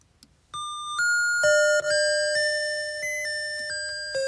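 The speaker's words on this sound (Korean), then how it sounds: "학교 종소리 모음." A collection of school bell chimes plays as a clear electronic melody of sustained tones that step up and down in pitch, loud and alone after a brief quiet start.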